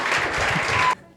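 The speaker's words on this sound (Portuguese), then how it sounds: "Bora aplaudir." A brief burst of audience applause at a Fuckup Nights talk, dense clapping that cuts off abruptly after about a second.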